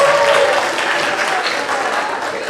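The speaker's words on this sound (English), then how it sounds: "Round of applause for you" Steady applause fills the room at a high school concert band open rehearsal, a dense, even wash of clapping hands that holds at a fairly loud level throughout.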